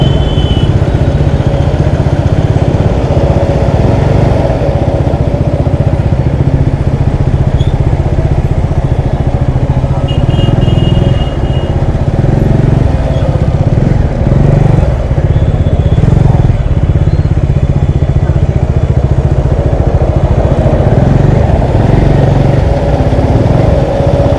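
Motorcycle ridden on a road, its mid-pitched engine running steadily and loud throughout with road rumble and wind, no talk over it.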